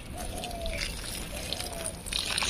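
Water pouring onto potted plants on a rooftop in the early morning, a steady soft trickle and slosh running throughout at close range, with a slight surge near the end.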